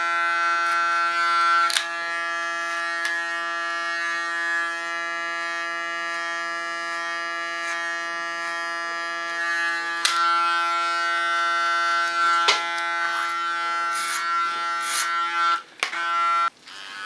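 A small electric hair clipper trims the contour line of a short haircut, giving a steady, close, high-pitched buzz that runs almost unbroken, with a few brief clicks and a short drop as the clipper lifts near the end.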